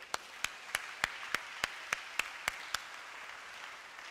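A church congregation at a Sunday service claps in a steady, even rhythm, about ten crisp beats spaced roughly a third of a second apart, moderately distant and fairly faint, with no voices over it.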